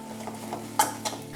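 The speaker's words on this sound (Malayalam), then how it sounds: "ഇനി ഇത് നന്നായിട്ടൊന്ന് മിക്സ് ചെയ്ത് കൊടുക്കണം." A few light clinks and scrapes of a utensil stirring egg and drumstick leaves in a pan for a stir fry, two brief sharper knocks standing out over a quiet kitchen background.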